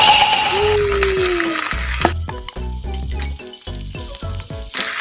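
Diced apple sizzles and fries in a pan for Japanese curry, bursts of crackling sizzle broken by stirring clatters, close and fairly loud with no talking.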